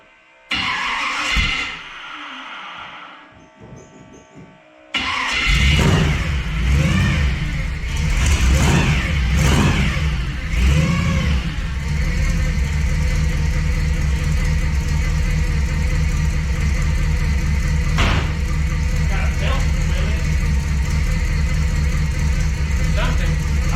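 A bagged C10 square body truck with a new exhaust and a small exhaust leak cranks and fires, then settles into a loud, steady rumbling idle that runs on for many seconds, with a voice speaking early on.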